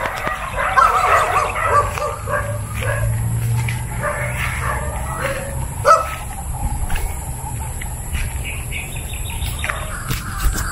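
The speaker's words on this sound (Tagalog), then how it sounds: "Ang ingay ng aso." A dog barks repeatedly in the distance outdoors, with birds chirping and steady background noise throughout.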